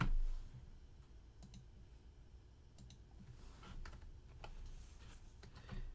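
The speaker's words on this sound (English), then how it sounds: "I type this with the keyboard" Light, quiet clicking on a computer keyboard as numbers are entered, scattered keystrokes in irregular bursts under a low room hum.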